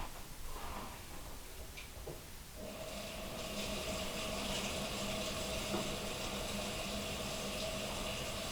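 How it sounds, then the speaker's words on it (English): Running tap water while hands are washed in a home kitchen before mixing banana nut bread, a soft start giving way to a steady, fairly loud gush that holds evenly to the end with no talking. "I'm going to wash my hands."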